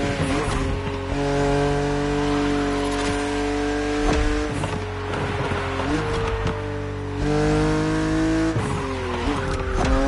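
A BMW Z roadster races in a driving game, its engine revving in rising and falling gear-shift sweeps with tyre squeal, loud and continuous close up.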